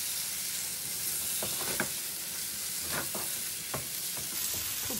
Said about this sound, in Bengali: খুব ভালো করে আমি জিনিসটাকে কষিয়ে নিলাম।